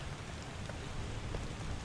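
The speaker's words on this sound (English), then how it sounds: "Well, it's raining now." Steady rain hisses in Return of the Obra Dinn, a dense, even wash of falling drops with a low rumble underneath and no voices.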